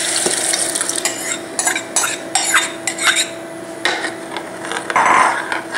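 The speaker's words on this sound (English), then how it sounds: "Now to this, I'm going to add our cooked lentil." Cooked lentils stirred into a sizzling pan of dal, a spoon scraping and clinking against the pan in steady strokes over a continuous frying hiss, close and fairly loud.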